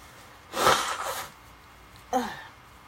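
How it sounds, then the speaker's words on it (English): Two quick, forceful bursts of nasal air as someone with winter allergies blows their nose, a longer honk followed by a shorter one, close to the listener. "I have to blow my nose"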